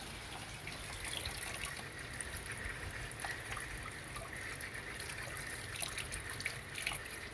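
Running water rinses a cleaned, snapped-in-half mud crab, a steady close trickle and splash of liquid with no talk.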